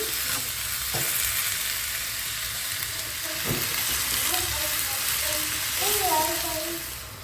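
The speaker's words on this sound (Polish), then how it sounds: "Podsmażamy śliwki z cukrem." Steady sizzling of plums frying with sugar in a pan, a continuous hiss with occasional stirring clinks, while a voice speaks faintly over it.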